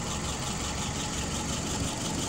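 WO 636SA engine idling at about 660 RPM, a steady low, even rumble running continuously with no break.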